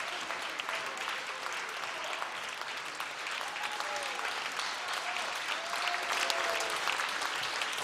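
Audience applause fills a festival concert hall for a khomus player from Yakutsk, steady, dense clapping throughout with no talking.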